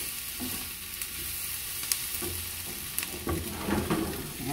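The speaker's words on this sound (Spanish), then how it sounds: "voy a ir guisando acá la cebolla" Onion frying in a pan for a chicken dish, a steady dense sizzle with occasional soft scrapes of stirring, close and even throughout, with no voices.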